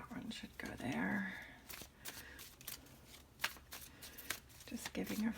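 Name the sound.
shuffling tarot cards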